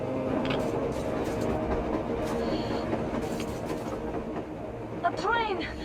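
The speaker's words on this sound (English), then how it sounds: "A train! A damn train on the surface!" In the video game Metro Exodus, a train on the surface passes with a continuous heavy rumble and scattered metallic clanks, and a voice briefly cuts in near the end.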